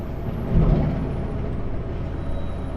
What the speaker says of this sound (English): Brake check.